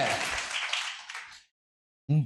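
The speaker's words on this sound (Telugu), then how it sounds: "చప్పట్లు కొట్టి దేవుని నామాన్ని మహిమపరుస్తా." A church congregation clapping during Sunday worship near Jurala Dam, a brief burst of mixed claps lasting about a second and a half, then silence and a short voice.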